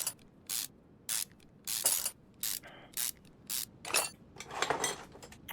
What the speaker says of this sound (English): we gotta take the throttle body off